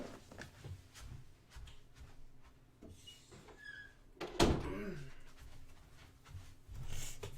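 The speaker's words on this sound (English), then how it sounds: "One second, I gotta close my door." A door closes with a single sharp thud midway through, after a few soft creaks and shuffles, in a quiet room.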